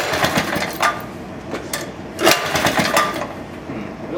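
An old Maytag 72 engine with worn crank bearings runs unevenly, a close, rough putter of irregular firing pulses over a mechanical clatter, with a voice briefly heard beneath it.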